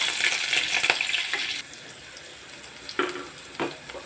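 Chopped green chillies fry in hot oil with cumin seeds, giving a bright, dense sizzle that drops suddenly partway through, followed by a couple of short bursts as the pan is stirred.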